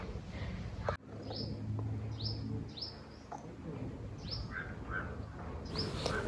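Small birds chirp in short, scattered high calls around a quiet hilltop temple at Shabridham near Subir in Gujarat's Dang district, sounding distant over a soft outdoor hush.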